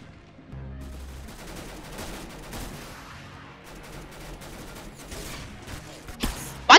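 Rapid gunfire from the Potassium Power gun in the Roblox game Arsenal, a dense run of shots that holds steady for several seconds, then a louder burst at the end.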